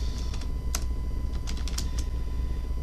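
A handful of quiet, close keystrokes tap on a computer keyboard in short irregular clusters over a low background hum.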